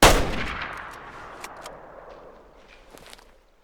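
A single sharp rifle shot at a feral goat in the hunting game Way of the Hunter, loud and close at the start and trailing into a long fading echo, with faint footstep-like rustles afterward.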